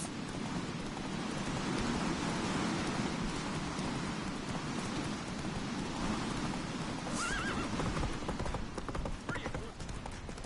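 In The Witcher 3, the horse Roach gallops with a rhythmic clip-clop of hooves and whinnies once, amid steady rain and under voices.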